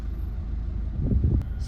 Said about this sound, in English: I'm actually engine braking, so I've got it in first gear, and I'm gonna literally go that slow down the hill